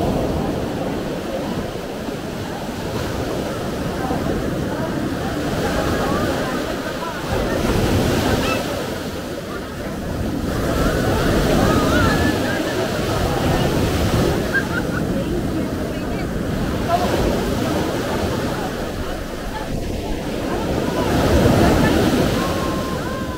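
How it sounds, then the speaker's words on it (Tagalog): Powerful ocean surf rolls in and crashes in repeated surges at Alubihod Beach, Guimaras, during monsoon weather, loud and close, with wind buffeting the microphone and faint voices underneath. "Grabe, ang lakas ng alon."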